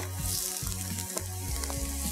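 Garlic sautéing in a pan, a loud close sizzle with repeated spatula strokes and low scraping thumps in an uneven rhythm.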